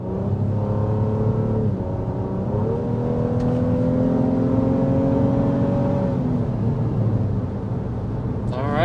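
A Toyota Highlander's turbocharged four-cylinder accelerates hard onto a highway stretch, its engine note climbing steadily in pitch under steady road and wind noise, loud and close from inside the cabin.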